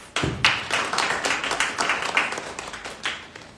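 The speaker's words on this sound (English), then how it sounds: "Let's give our candidates a round of applause." Audience applause for the candidates at the end of a student government representative debate, with the question portion over; a dense patter of clapping starts suddenly and keeps going, with sharper individual claps scattered through it.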